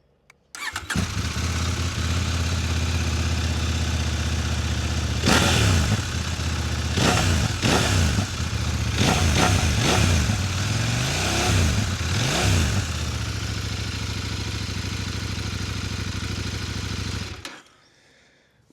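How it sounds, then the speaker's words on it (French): CF-MOTO 800MT X motorcycle engine starts, idles steadily, then revs in a series of sharp throttle blips before settling back to a loud, close idle and shutting off. "Il me reste à te faire écouter le moteur."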